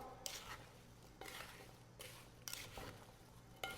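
Apple slices being stirred with cinnamon, clove and nutmeg in a bowl for a homemade apple crumble pie: faint, soft scraping and clinking of a utensil in repeated strokes, with a few sharper taps against the bowl.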